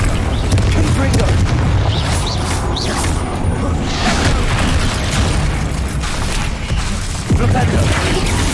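Spell explosions in Hogwarts Legacy, a dense run of loud booms, bursts and whooshes overlapping continuously, with voices calling out among the blasts.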